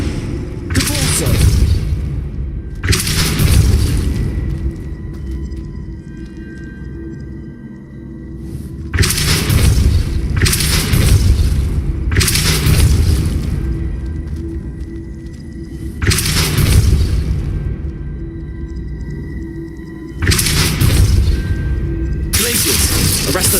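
Spell blasts from the Hogwarts Legacy video game, including the Depulso spell, land as repeated heavy booming bursts with a shattering crash, each a few seconds apart over a steady low rumble.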